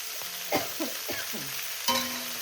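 Bathua (betho) greens going into a hot pan, giving short bursts of sizzling and stirring scrapes, with a few distinct splashes of frying that rise and fade over a quiet background.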